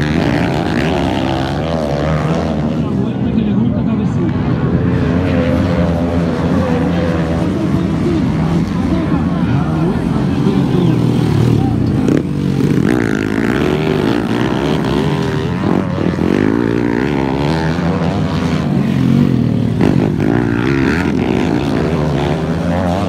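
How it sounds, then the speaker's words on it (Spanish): An engine runs steadily and loudly throughout, its drone rising and falling as it revs, with voices talking over it at points. "aunque ese motor anda bueno"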